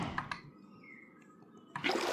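Water gulped in Minecraft, a short liquid slurp heard twice near the start, then a louder watery burst at the end over faint game background.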